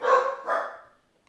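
A dog gives two quick barks in close succession, loud and near, with the second slightly softer and trailing off into silence.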